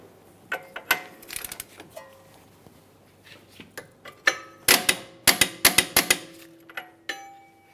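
A ratchet tightens the CV axle mounting nut on a Jeep Grand Cherokee, with close bursts of rapid metallic clicks and pauses between the strokes.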